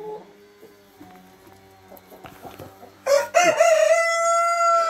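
Rhode Island rooster crows loudly and close, one long harmonic cock-a-doodle-doo rising near the end, after a stretch of quieter barnyard clucking and background noise.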